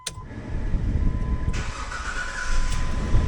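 A car engine cranks and catches, settling into a loud running rumble with a brighter whine rising partway through, after a repair to the brake lines.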